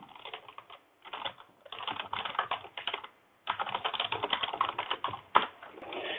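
Java code being typed on a computer keyboard: bursts of quick, close key clicks with brief pauses between runs and one longer gap midway.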